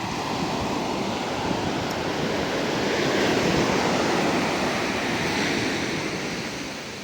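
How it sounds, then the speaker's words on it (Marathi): Sea waves roll in at Arnala Beach with a constant broad roar of surf, mixed with wind buffeting the microphone, loud and unbroken with no voices. "समोर लाटांचा आवाज आणि थंड हवा"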